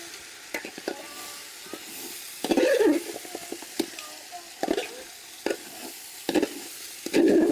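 Vegetables frying in a village cooking pot, with steady sizzle beneath intermittent scraping strokes of a stirring utensil against the pan bottom, close and moderately loud, no talk.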